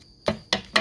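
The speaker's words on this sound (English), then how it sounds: "So I'm just going to snip" Scissors snipping paper for a journal embellishment: three quick, close, crisp cuts spaced about a quarter second apart.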